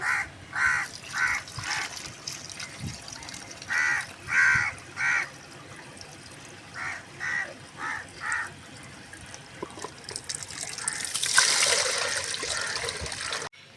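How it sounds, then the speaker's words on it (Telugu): Water is poured and swished while lentils are rinsed in a kitchen, beginning with a series of short rhythmic sloshing bursts and building into a louder steady pour near the end, close by and with no talking. "ఇలా కడిగి నీళ్ళు పోసేసుకోవాలండి"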